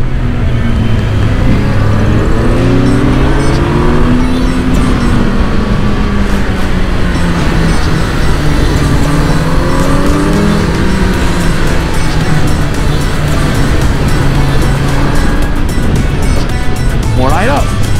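A Kawasaki 2020 Z900 motorcycle engine under way, loud and continuous, its pitch climbing and dropping as the rider works the throttle, with voices talking over it throughout.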